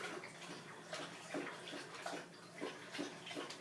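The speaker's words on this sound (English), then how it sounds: "My dog drinking water." A dog lapping drinking water indoors, a quick series of soft wet splashing laps in an uneven rhythm, close but faint, with no talking.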